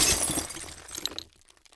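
Glass jars smash in a sharp, loud break, and a scatter of tinkling fragments follows and fades out within about two seconds.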